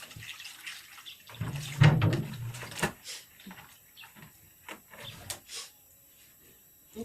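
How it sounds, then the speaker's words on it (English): Tap water runs and splashes over tomatoes being washed in a sink, with uneven gurgling bursts and a few clunks of handling at close range. "So right now I want to wash the tomatoes and slice it."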